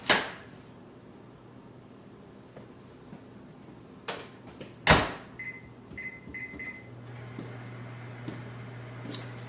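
Microwave oven cooking kale chips: a steady low hum runs through the latter part, with a few clicks, clunks and short beeps as the door and controls are handled nearby, no talking.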